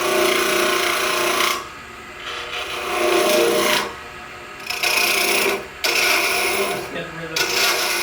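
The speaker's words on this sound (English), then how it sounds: "I'll come in with this spindle gouge" Spindle gouge shaving wood from a spinning top blank on a lathe, loud rasping cuts in bursts of one to two seconds separated by brief pauses, close and alone.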